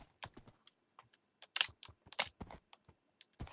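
Keyboard keys pressed during a game test, a series of sharp clicks in uneven bursts, some single taps and some quick clusters, close and fairly quiet with no talking.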